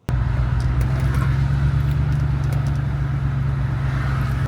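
Steady low engine rumble of a C5 Corvette moving through Los Angeles city traffic, continuous and fairly loud from start to finish, with faint road noise above.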